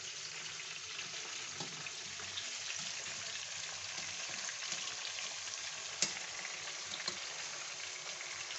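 Fish frying in a pan over medium heat, an even close sizzle and crackle throughout with a sharp clink of a utensil near the end, no voices.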